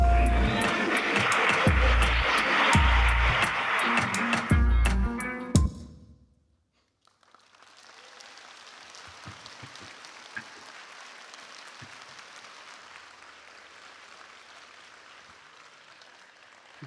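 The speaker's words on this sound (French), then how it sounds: "je ne prends pas ces applaudissements pour moi, je les prends pour lui" Concert audience at the Olympia applauding for about five seconds with rhythmic beats beneath, then cutting abruptly to a quiet, low room murmur.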